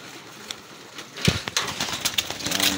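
Pet racing pigeons coo softly at feeding time, low throaty murmurs with faint rustling and a few wing sounds nearby, rising in activity after a brief quiet start.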